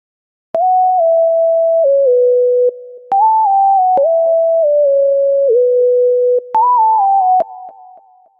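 Simple sine lead synth from the Purdy pack in FL Studio plays a clean, bouncy melody of gliding notes with slides and quick triplet runs, in three short phrases separated by brief gaps, alone and fairly loud.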